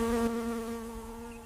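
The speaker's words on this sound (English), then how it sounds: "clouds of buzzing flies gathered around the irritated wounds" Steady droning buzz of flies swarming around a tick-infested giraffe's irritated wounds, close and continuous with a sustained hum throughout.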